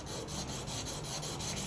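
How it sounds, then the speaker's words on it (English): Silver bead being sanded flat by hand, a steady back-and-forth rasping scrape with regular strokes, close and fairly loud with no talking. "I'm just gonna sand the rest of it, like so"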